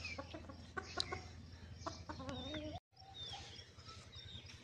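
An Aseel rooster clucks and calls repeatedly, close by, with short throaty bursts and a few higher squawks, then a brief cutoff before more clucking.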